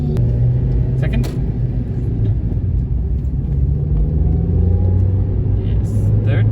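A manual car accelerates under a learner driver, its engine giving a steady, close, low rumbling drone that holds for several seconds from inside the cabin.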